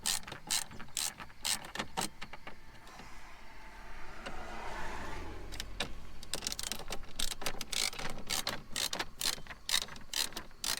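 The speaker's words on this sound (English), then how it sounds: "And screw both of them back in." Two screws being driven back in while installing a hazard button on a 2004-05 Subaru WRX/STI, heard as a long run of fast ratcheting clicks with a brief smoother whir in the middle.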